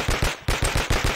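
Rapid automatic gunfire from a weapon in the video game Blood and Bacon, about six sharp close shots in quick rhythmic succession with a brief gap partway through.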